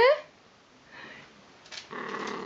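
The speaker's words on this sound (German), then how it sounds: "Du brauchst nicht knurren." A dog growls in a home, a low, quiet rumble that comes and goes between a few short bursts of human voice.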